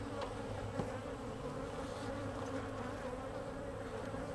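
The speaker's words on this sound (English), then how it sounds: "A lot of bees in the air." A fall inspection of a honey bee hive, with many bees buzzing in the air around it in a steady, continuous drone of overlapping wings at moderate volume, no one speaking.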